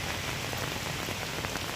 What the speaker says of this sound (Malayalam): ചേലക്കര തിരുവല്ലോമല മേഖലയിൽ അതിശക്തമായ മഴ തുടരുകയാണ്.